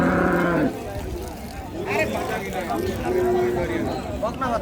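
Cattle at Ambari cattle market, where dairy cows are sold, make deep harmonic moos under a steady hubbub of market chatter and nearby voices.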